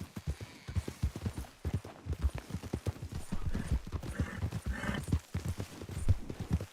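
Two horses stepping past a low fence, their hooves thudding in an uneven, close clip-clop rhythm that continues steadily throughout with light rustling between steps.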